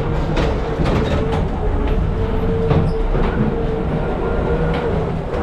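A fairground ghost train rolls along its track with a loud, steady rumbling and rattling, broken by repeated clunks of the cars over the rails.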